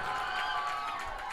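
Crowd at a local cricket tournament match applauding and cheering, a steady dense wash of clapping and voices at moderate distance, sustained throughout.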